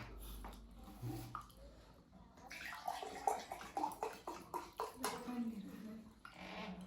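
Water is poured into a container at a meal of noodles and fried eggs, making a soft, faint gurgling splash over several seconds. People talk quietly around it.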